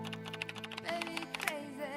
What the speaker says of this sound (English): It sounded like you pressed at least 40 keys.